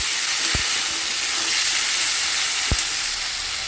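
A large tomato sizzles in a hot frying pan with a steady, close hiss of frying, broken by two soft knocks of stirring or utensil contact.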